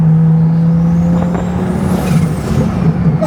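Turbo flutter from a twin-turbo Lamborghini, a loud, close chattering hiss over a steady engine drone, with a rising whistle partway through.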